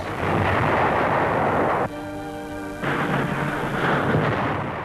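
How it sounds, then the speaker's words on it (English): Archival wartime recording of a flail anti-mine tank setting off buried mines, a continuous loud, dense roar of blasts and rumble with a brief tonal, engine-like stretch partway through. "The flails detonate the mines."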